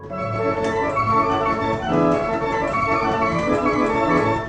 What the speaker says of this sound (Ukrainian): А також цирковий ембіант.